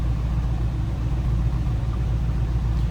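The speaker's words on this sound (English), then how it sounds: "Sounds like you'd expect a 78 Vette to sound." A 1978 Chevrolet Corvette Pace Car idles from its exhaust at the rear, a steady, loud low rumble held evenly throughout with no voices.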